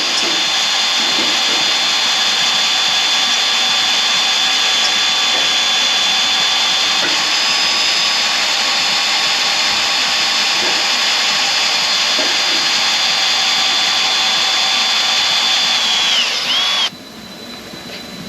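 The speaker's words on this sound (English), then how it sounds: "We drilled it out. We got the old stud out." A power drill bores out an old stud from an engine, running low and slow, a loud steady high whine with constant hiss that drops off sharply near the end.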